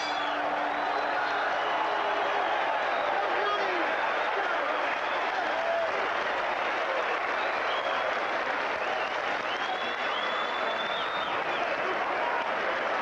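A boxing crowd at the Mirage in Las Vegas applauds and cheers after the Azumah Nelson versus Jeff Fenech WBC super featherweight title fight, a dense, continuous roar of clapping with scattered whoops.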